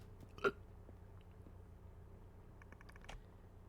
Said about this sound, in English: Also, I just burped. That was a gross burp.